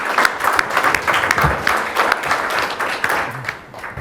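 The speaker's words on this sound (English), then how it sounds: "let's give Anne and Caroline a round of applause" Audience at a public talk with a mayor and police chief bursts into applause, a loud dense patter of many hands clapping steadily for several seconds before easing off.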